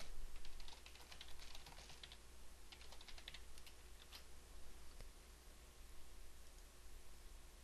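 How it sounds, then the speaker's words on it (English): Computer keyboard keys click in short quick clusters as someone types a message, faint and close over a steady background hiss, with a few pauses between bursts. "type in a short message"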